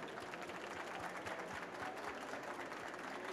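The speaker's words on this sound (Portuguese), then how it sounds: "Salva de palmas." Applause after a talk at a tech summit, a steady, faint patter of many hands clapping with no voices over it.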